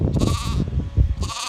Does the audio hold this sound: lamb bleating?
yes